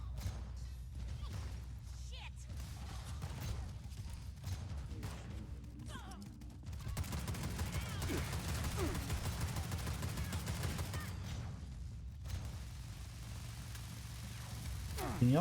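Gunfire in the video game Fallout 76 rattles in bursts and scattered shots, dense in places and thinner in others, with a voice talking over the shooting.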